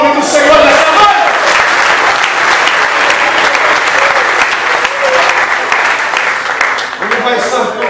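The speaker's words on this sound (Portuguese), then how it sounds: "Quantos podem aplaudir o nome do Senhor nessa noite?" A church congregation bursts into loud, sustained applause during an evening service, continuous clapping with a preacher's voice sounding over it.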